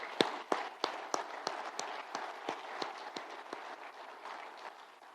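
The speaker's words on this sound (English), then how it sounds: "I think we owe one more round of applause to Governor Reynolds for that accomplishment" A scattered round of audience applause for Governor Reynolds at an agriculture event, sharp individual claps standing out clearly at first, then thinning and fading to a soft patter over a few seconds.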